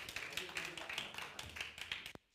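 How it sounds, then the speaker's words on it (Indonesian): A church congregation applauds at Sunday worship in Jember, a steady dense wash of many hands clapping close by, cutting off sharply near the end into near silence. "Mari beri tepuk tangan buat Pastor Paul Suryanto."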